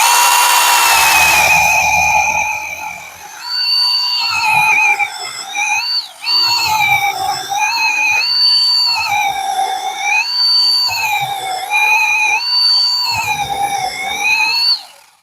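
A Rinoxar PowerCut X9 garden power tool cuts slices with a loud, close, high motor whine whose pitch dips and rises as it bites through the material, running almost without a break.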